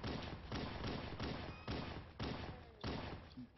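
Halo gunplay: evenly spaced shots fired roughly every half second, each a muffled, mid-loud crack with a short tail, ending in a sharper, louder burst.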